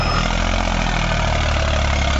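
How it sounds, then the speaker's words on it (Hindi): An Eicher 380 tractor engine runs steadily on sandy ground, giving a loud, even, continuous rumble close by with no talk. "भाई, ट्रैक्टर की आवाज आ सी साल एकदम दर मजा आ जा आवाज सुन तो इसकी"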